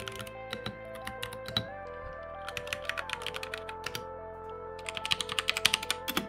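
Typing on Ducky and Cooler Master mechanical gaming keyboards: rapid, close clicky keystrokes in uneven bursts over a steady background tone, with the pace quickening toward the end.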